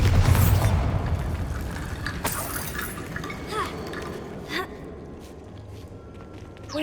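In Hogwarts Legacy a Bombarda spell explodes with a deep, loud boom at the start, then rumbles and decays. Scattered rustling, a few footsteps and smaller pops follow, and a voice calls out over it.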